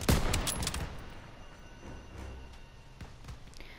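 Rifle and machine-gun fire in the World War II shooter Call of Duty WW2 during a firefight near a church: a loud burst of shots up front, then scattered distant cracks.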